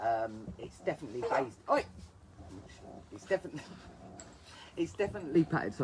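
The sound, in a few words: dog barking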